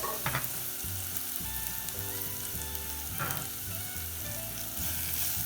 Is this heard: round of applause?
no